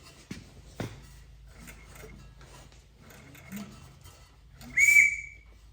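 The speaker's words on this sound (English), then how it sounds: "I'm on number 2 and the whistle went off." A screw-in whistle on a 302 engine in a 1964 Galaxie on a run stand gives one short, loud, high whistle near the end, after a few dull clunks from hand-cranking the engine.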